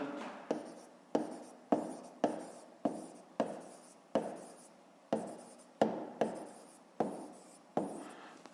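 Pen or pencil writing on paper for a sixth-grade math exercise, a series of about fourteen short, crisp strokes with scratchy bursts, each one fading, close and fairly quiet with no talking.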